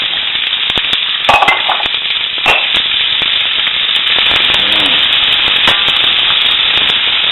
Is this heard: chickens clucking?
no